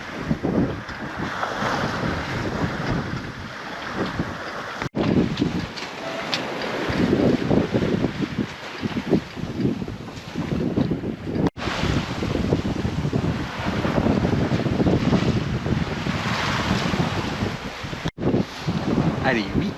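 Sailboat Tangaro sailing close-hauled at over six knots, loud rushing wind across the microphone and water washing along the hull, continuous and close, with a voice talking at times.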